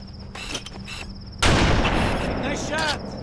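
Gunfire in Halo: Combat Evolved on the Truth and Reconciliation level at Heroic difficulty: a sudden loud blast midway through that rolls into a sustained roar, after quieter in-game tones and clicks.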